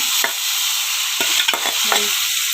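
A spoon stirs mung beans (munggo) in a cooking pot, giving several distinct scraping strokes over a steady background of simmering hiss, close and fairly loud, with no talking.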